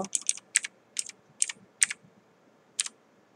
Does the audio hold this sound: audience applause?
no